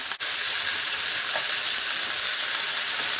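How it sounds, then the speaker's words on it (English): Hamburger patties fry with onions in a hot pan, making a loud, continuous hiss and crackle close up, with one small knock at the start. "add your hamburgers into the pan. And you're going to cook those till they're done."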